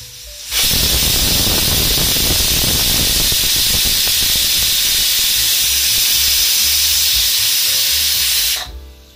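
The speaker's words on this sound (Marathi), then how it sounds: "कुकरच्या मीडियम फ्लेम वरती आपण 1 शिट्टी काढून घेणार आहोत" A pressure cooker on a medium flame whistles, a loud, continuous hiss of escaping steam for several seconds, starting abruptly and cutting off at the end.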